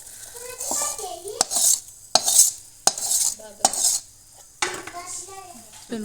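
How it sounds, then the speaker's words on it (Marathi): A spoon stirs a spiced mixture into puffed rice for bhadang, making repeated metallic clinks and scrapes against a pot with soft rustling in between, while a voice is heard at times. "आता हे सर्व मिश्रण आपण चिरुमऱ्यामध्ये मिक्स करून घेणार आहोत"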